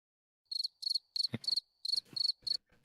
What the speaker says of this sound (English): Anyone have that cricket sound effect?